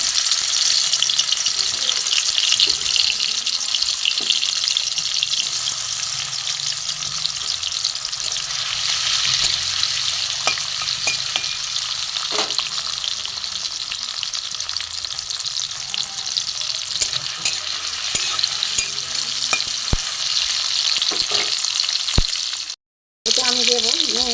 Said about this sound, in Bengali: এখানে কড়া বসিয়ে তেল দিয়ে দিয়েছি দিয়ে আমি এখানে কয়েকটা টমেটো কুচি দিয়ে দেবো